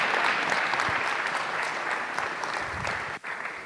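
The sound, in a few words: round of applause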